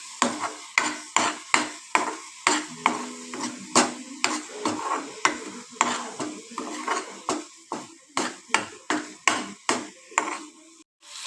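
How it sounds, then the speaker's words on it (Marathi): Ginger-garlic paste being roasted in a pan for paneer masala, heard as a long run of sharp, regular spoon-on-pan clinks and scrapes, close and fairly loud, with no talking. "हा मसाला चांगला भाजून घ्यायचा।"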